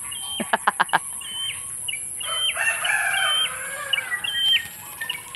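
A rooster crows nearby with sharp repeated notes, followed by clucking and calls from chickens, with small birds chirping in the background, in a rural countryside setting.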